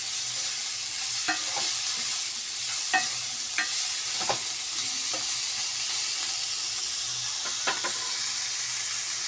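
Banana flower being stirred as it fries with salt in a pan: a steady sizzling hiss throughout, broken by several sharp scraping knocks of the spoon against the pan, with no talking.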